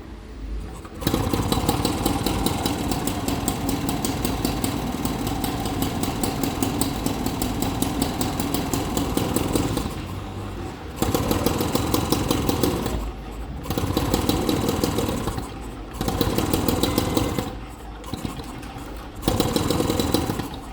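An old moped engine with points ignition and an old-style crank runs loud and close, a buzzy, rapid two-stroke putter that cuts out and restarts several times as the throttle drops and rises.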